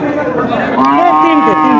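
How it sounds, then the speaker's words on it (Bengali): A red cow at a cattle market (haat) lets out a loud, close, drawn-out moo that rises and bends in pitch, set against a steady murmur of market crowd noise. "দেখতে পাচ্ছেন দর্শক বন্ধুরা লাল গরু"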